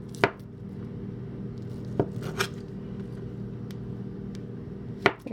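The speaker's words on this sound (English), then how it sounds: "cut it like julienne, long strips, and then turn it to the side and cut cubes" A knife chops Spam into cubes on a cutting board, a few sharp isolated knocks spaced seconds apart over a low steady background hum.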